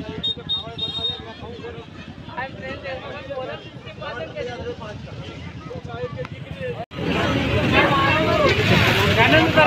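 Road traffic jams a rural Indian market where two tractors, a machine and two trolleys move in a line, engines rumbling under wind buffeting. Someone talks over it, and the noise grows louder near the end.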